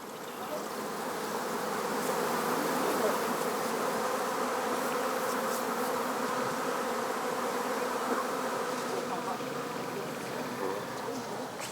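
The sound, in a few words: honey bees buzzing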